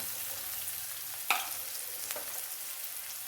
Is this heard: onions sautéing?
yes